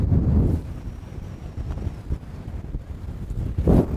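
Wind gusts buffet across an open lake during boat fishing, blowing in strong bursts at the start and end with a steady rumbling rush between, loud and close against the microphone.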